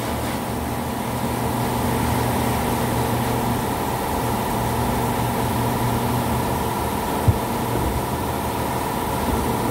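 A stainless steel vapor blast cabinet runs with its pump, giving a steady loud mechanical hum and hiss that holds constant throughout, with one brief knock near the end.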